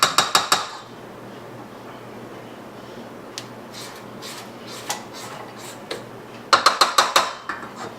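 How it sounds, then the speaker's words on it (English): A spatula scrapes and taps around a bowl of brownie batter: a quick burst of sharp clinks, then sparse soft scrapes and knocks, then another rapid run of close, bright taps, with no talking. "I'm just going to scrape the bowl to make sure we get all the flour combined"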